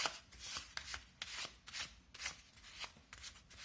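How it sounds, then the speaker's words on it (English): A handmade Lenormand card deck is shuffled repeatedly up close, giving rhythmic bursts of papery riffling and scratchy rubbing, about a dozen strokes in a steady pattern. "You can just shuffle like this, or like this."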